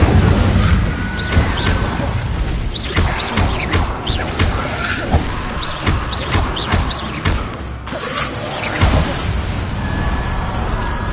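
Repeated booming bursts from the Incendio fire spell in Hogwarts Legacy, loud and close, landing as a dense run of blasts and crackles over a constant roar of game noise.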